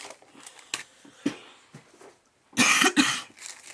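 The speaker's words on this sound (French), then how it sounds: "Vous voyez, je tousse encore." Several dry coughs from a woman at a scrapbooking craft table, a scattering of short soft coughs and throat sounds followed by a louder burst of two or three close coughs near the end.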